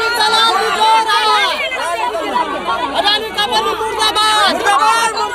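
Crowd of villagers protesting against the Adani company over a coal block in Gondalpura, a dense, loud babble of many overlapping voices shouting and chattering close by throughout.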